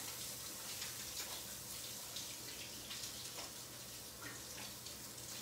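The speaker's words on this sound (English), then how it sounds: "I'm going to wash my hands, dry them off really well" A tap runs steadily into a sink while hands are washed during scone baking, giving a continuous soft hiss of flowing water, faint and unbroken, with no talk.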